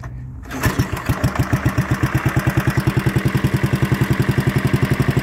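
A Wheel Horse Suburban lawn tractor engine whose carburetor is set a little rich catches and settles into a steady, loud, close, chugging run with an even pulsing beat and no talking.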